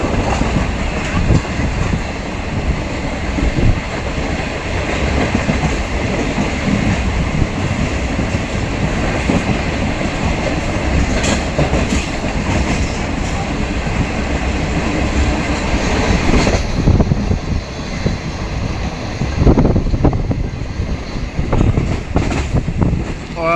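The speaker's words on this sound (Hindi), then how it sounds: "जेड सी यू ज़बरदस्त धुआं उड़ाता हुआ आइए थोड़ा जेड सी यू के पिकअप को एंजॉय करते हैं" A ZCU diesel locomotive hauling the Allama Iqbal Express, a loud continuous rumble and clatter of the passing train with wind buffeting the microphone, steady throughout with brief rhythmic clicks of wheels on rail joints.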